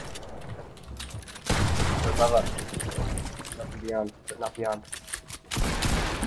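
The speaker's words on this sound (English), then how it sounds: "There's another team shooting at us." Rapid bursts of gunfire from an opposing squad in a video game crackle in several rattling strings, heard under excited player chatter over voice chat.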